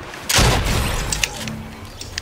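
In Fortnite, a loud nearby gunshot booms early, then a few fainter shots and thuds follow across a short, otherwise quiet stretch with no talking.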